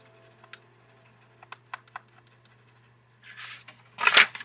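A pencil works on paper during a drawing session, giving soft scattered scratches and taps, then louder, longer rubbing strokes near the end, all close and quiet against a faint steady hum.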